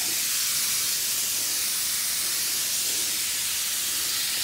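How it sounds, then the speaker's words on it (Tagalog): A steady, unbroken hiss of an insecticide sprayer runs throughout, loud and close, with no voices. "Itong huni lang ng sprayer."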